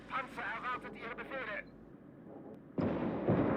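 A tank cannon fires in Call to Arms Gates of Hell: after a stretch of talking and a short lull, a single sudden heavy blast rolls into a sustained low rumble.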